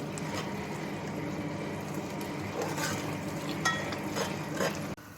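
A spoon stirs salan curry simmering in a pot, a steady bubbling and sizzling bed with occasional scrapes and clinks against the pot. Close, moderately quiet, with no talk, ending in a sharp knock.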